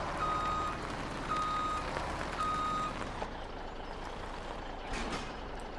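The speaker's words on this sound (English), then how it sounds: "We'll back up with the T8800 now." A truck, the T8800, backs up in the Farming Simulator 17 video game. Three evenly spaced reversing beeps sound over a steady engine hum, which carries on alone afterward.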